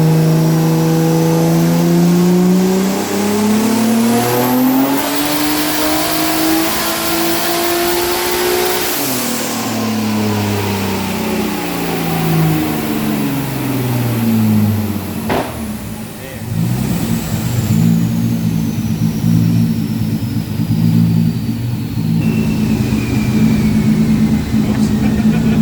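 A nitrous-fed car engine revving hard on a dyno, its pitch sweeping up and down in long loud pulls while someone talks over it.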